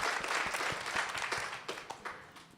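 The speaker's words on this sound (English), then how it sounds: "Please give her a round of applause." Audience applause after a speaker's introduction at a community talk on decarceration, a steady wash of many hands clapping at moderate distance that thins out toward the end.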